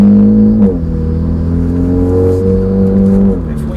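A Hyundai i30N with a full RPM Performance exhaust and DCT gearbox, in normal mode, idles with a steady low drone and then revs up and settles in a few short, smooth rises, close and loud.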